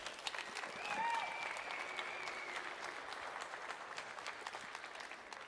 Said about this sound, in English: Please join me in giving the team a round of applause.